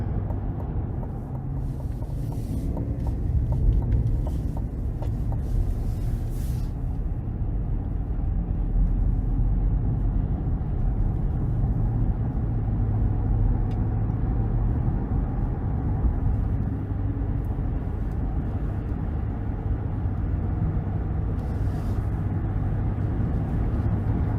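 A 2023 Chevy Tahoe High Country with a 6.2 V8 drives through sharp curves, heard from inside as a steady, subdued low engine and road rumble that runs without a break.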